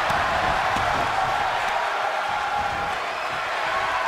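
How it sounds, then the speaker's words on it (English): A video game wrestling crowd in WWE 2K22 roars continuously in a dense, sustained wash of cheering, steady and loud throughout. "The sound of this crowd is deafening, and he's asking for more."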